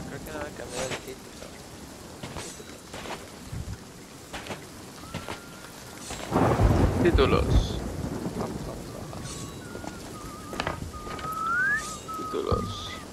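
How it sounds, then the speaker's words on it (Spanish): Rain falls steadily in a stormy scene in the pirate video game Sea of Thieves, with a thunder rumble swelling midway and the storm sound continuing beneath occasional game effects and a voice talking. "Está lloviendo."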